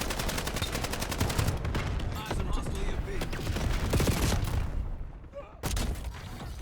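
Gunfire in a first-person shooter video game: dense, loud rapid shots and bursts that carry on almost without a break, with a short lull near the end before the firing resumes.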